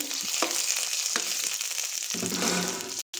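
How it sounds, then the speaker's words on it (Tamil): Curry leaves and small shallots, added after mustard seeds for a fish curry, sauté in a pan with a continuous close sizzle, a few light stirring taps, and a brief cut near the end. "அப்புறமா கருவேப்பிலை, அப்புறமா சின்ன வெங்காயம் நல்லா வதக்கி விட்டுட்டு,"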